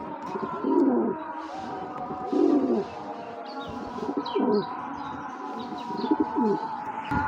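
Racing pigeons cooing nearby in low, throaty repeated calls every second or so, with faint chirps and rustling in the background.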